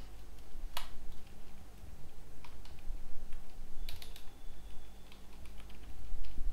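Keys on a computer keyboard clatter in quiet, irregular bursts, with a few sharper clicks standing out over a low steady background hum.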